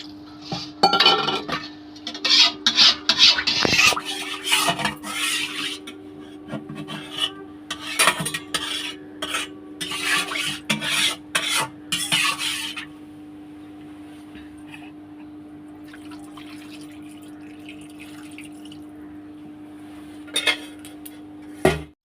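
Fish curry being stirred in a karahi with spices and water, with busy metallic scraping and clanking of a utensil against the pan for about thirteen seconds, then a quieter stretch and a final clatter.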